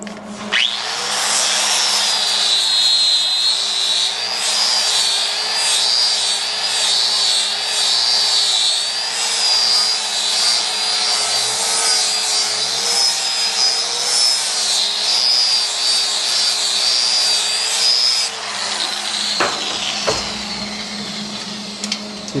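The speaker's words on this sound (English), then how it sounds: "Change the cutting disc over to a flap wheel, and we'll make everything fancy." An angle grinder fitted with a flap wheel smoothing welded metal on a 1965 VW Safari front, a steady loud high whine with a wavering pitch running continuously, cutting out near the end.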